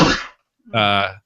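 A single sharp sneeze bursts out close up, followed after a brief pause by a short voiced sound, with no other noise around it.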